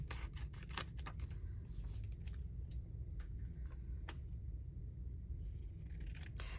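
Scissors snip through paper while fresco fragment pieces are cut out for a craft project, producing a run of quick, crisp cuts and soft scraping over a steady low room hum.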